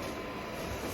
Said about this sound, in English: The Roomba going on, so I'm sorry about the noise